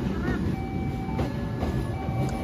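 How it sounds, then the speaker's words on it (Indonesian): A commuter train rumbles steadily close by with low mechanical noise and a faint high squeal as it pulls into Rangkasbitung station, Indonesia. "Masuk kereta komuter lain Merak dari stasiun Merak mengakhiri perjalanan di Rangkas Bitung"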